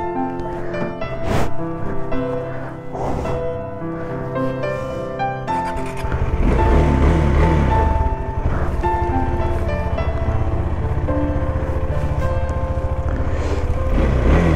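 A loaded motorbike, luggage strapped on and engine already warmed, rumbles steadily in a cold mountain village in the Spiti Valley, with the engine note rising and growing louder midway as it pulls away, with no voices.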